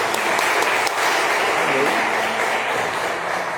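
Applause from a church congregation at a sermon: a steady, loud wash of clapping that holds evenly from start to finish with no clear pauses.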